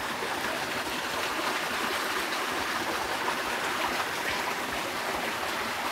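A mountain stream flows in a steady, soft, even rush of water, heard alone and fairly faint throughout.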